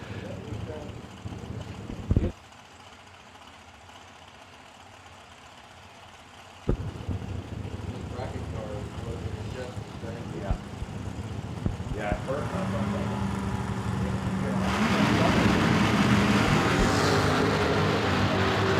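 A supercharged Chrysler-powered short-wheelbase dragster at a Bowling Green outlaw drag racing event, heard as a distant engine rumble that swells into a louder, sustained broadband roar near the end, with an announcer's voice over it.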